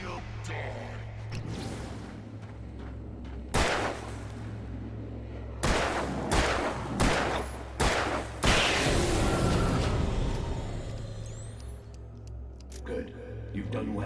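Gunshots ring out in the game Alan Wake Remastered: several loud, sharp cracks in a cluster, some in quick succession, over a low droning background, with a voice speaking around them.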